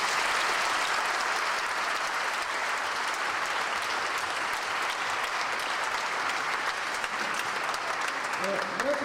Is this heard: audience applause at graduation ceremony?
yes